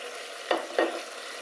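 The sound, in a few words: veal pieces added to a sizzling pan of mushroom sauce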